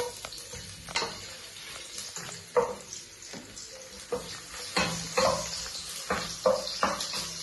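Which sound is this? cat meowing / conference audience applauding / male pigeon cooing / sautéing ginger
sautéing ginger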